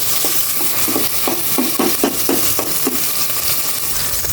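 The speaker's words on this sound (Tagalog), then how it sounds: "Igisa na po natin ang pork." One kilo of pork sautés in a pan for sinigang, with a steady loud sizzle and rhythmic scraping stirs of a utensil against the pan.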